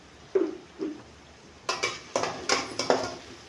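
Onions are sautéed in a pan for banana flower poriyal: a spatula scrapes and clanks against the pan in a few soft strokes, then a quicker run of sharper clatters, close by with no talking.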